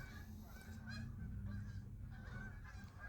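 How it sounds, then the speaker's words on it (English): Several geese honk in a steady, overlapping series of harsh calls, fairly close and continuous over a low rumbling outdoor background, with no voices. "What are those, geese?"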